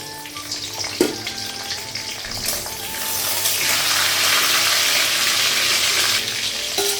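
Panch phoron with green and dried chillies frying in hot oil, a loud steady sizzle that swells after a sharp clink and holds, with utensil clatter near the start.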